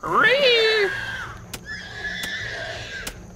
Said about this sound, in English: monster sounds like a horse